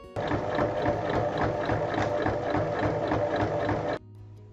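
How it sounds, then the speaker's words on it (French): A sewing machine stitches down both sides of a fabric scissors pouch in one continuous rapid run of even needle clatter, then stops abruptly, leaving a faint hum. "on place endroit contre endroit et on pique sur les deux côtés"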